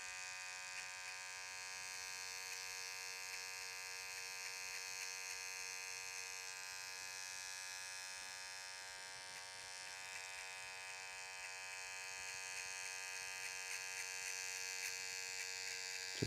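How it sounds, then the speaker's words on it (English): A small Andis electric hair trimmer hums steadily at close range while buffing a skin fade, an unbroken bright buzz lasting the whole stretch with no talking. "I use my little Andis. And I'm gonna sit here and I'm gonna really just try to buff this out right now."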